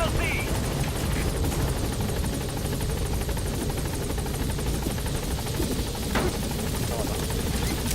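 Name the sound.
helicopter in video game Metal Gear Solid V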